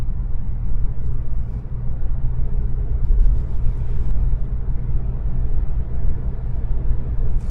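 A modded 2016 Volkswagen GTI MK7 drives through the suburbs, its engine giving a loud, steady low rumble with continuous road noise from inside the car.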